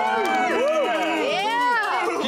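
A team and crowd cheer and shout after winning a car-building contest with a 1994 Dodge Neon, loud, close and continuous, excited voices overlapping in a dense babble of yells.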